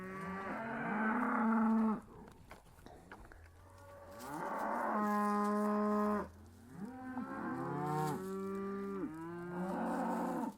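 Cattle on a farm with horses nearby give three long, loud moos close to the listener, separated by brief quiet gaps with faint background rustle.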